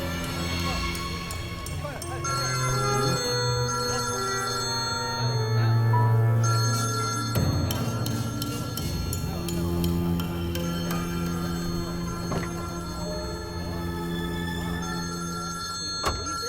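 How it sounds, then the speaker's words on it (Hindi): A mobile phone rings with a repeating electronic tone inside a stopped vehicle, sustained for many seconds beneath people talking and some traffic and background noise. "इसमें फोन बज रहा है।"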